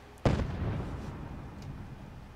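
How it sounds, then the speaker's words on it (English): An explosion in the Fallout 4 video game, a single sharp loud blast followed by a rumbling decay, with no talking. "Things are exploding."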